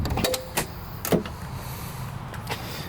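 A car's power sunroof sliding shut, a motor-driven mechanism with a few soft clunks and a settling thud, recorded up close inside the vehicle with no talking.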